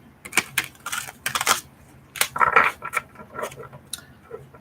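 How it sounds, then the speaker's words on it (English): Crisp, papery riffling and flicking of tarot cards in several quick bursts, close up, with short pauses between shuffles and no talking. "let us shuffle these cards"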